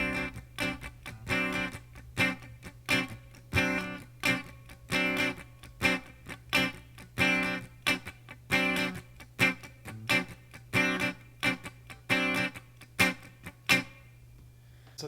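Funk guitar strummed in steady sixteenth notes, with crisp, evenly spaced chordal strokes, some accented, and short muted gaps, played close and loud on its own for about fifteen seconds.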